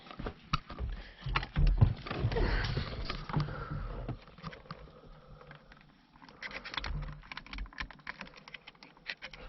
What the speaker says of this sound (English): I'm going to get these connectors unplugged